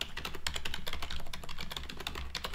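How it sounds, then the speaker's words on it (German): Steady run of clicks from typing on a computer keyboard while bookkeeping entries are made, rapid irregular keystrokes close by, continuous and fairly quiet with no talk. "Ihr hört das jetzt im Hintergrund auch immer klicken, weil ich das jetzt direkt über meine Tastatur eingebe."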